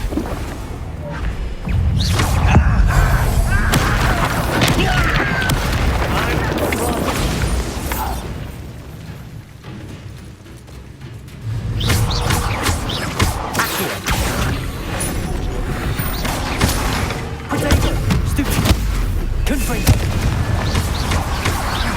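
Bombarda explosion spell in the video game Hogwarts Legacy, heavy booming blasts and crashing impacts amid ongoing combat sound effects, loud and dense with a quieter lull midway before the rumbling resumes.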